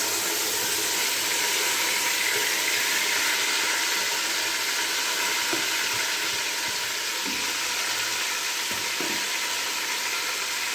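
Marinated chicken coated in yogurt, garlic, ginger and spices sizzles in hot oil for biryani, a steady close frying hiss with faint stirring clatter throughout.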